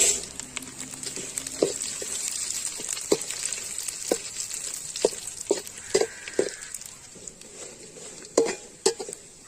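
Dried red chillies fry in hot oil in a pan for a chicken uppu curry, giving a close, steady sizzle broken by sharp spatula taps and scrapes against the metal.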